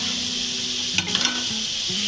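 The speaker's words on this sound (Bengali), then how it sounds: "এটাকে কষতে থাকুক আর ভালো মতো ভাজা হোক" Yardlong beans fry in a pan over lowered gas, sending up a constant bright sizzle with a few faint utensil taps and scrapes midway and a low steady hum beneath.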